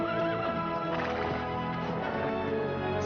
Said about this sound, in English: That horse is still pretty wild.